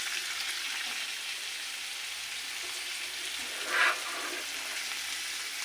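Onion, garlic, ginger and panch phoron frying in hot oil give a soft, steady sizzle, faint and even, with one brief louder crackle partway through.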